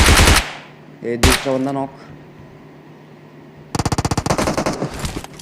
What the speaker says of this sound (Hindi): तभी मेरे को गन शॉट पड़ते हैं।